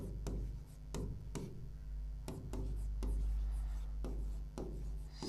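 Chalk or marker strokes on a board during a maths lecture, a series of scratchy rubbing bursts at an irregular rhythm over a low steady hum, close and fairly quiet.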